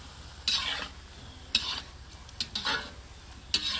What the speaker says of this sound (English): if you want crispy ones, just fry them little deep brown